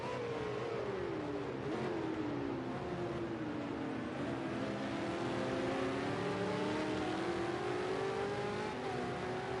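Race car engines in the ARC Supercars racing game, a steady high whine of several cars accelerating and shifting, the pitch sweeping up and down as they run down a straight, loud and continuous.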